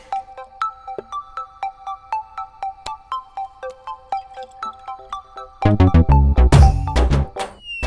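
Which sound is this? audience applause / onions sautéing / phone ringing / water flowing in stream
phone ringing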